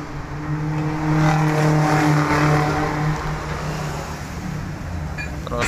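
A bus diesel engine revved by pulling the throttle cable by hand, rising to a loud steady rev, then falling back to a rougher idle.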